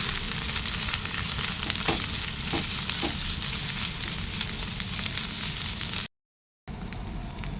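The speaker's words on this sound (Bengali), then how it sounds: "এখানে আমি আর একটু তেল দিয়ে দেবো। দিয়ে আরেকটু ভালো করে কষাবো।" Kharkol leaves frying in oil in a pan make a continuous close hiss and sizzle with a few soft stirring knocks, briefly cut to silence near the end.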